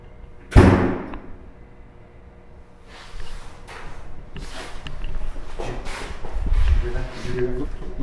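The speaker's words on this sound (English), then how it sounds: "could you slam that door again?" A door slams once with a loud sharp bang in a quiet building during a ghost hunt, followed by faint thumps and people talking.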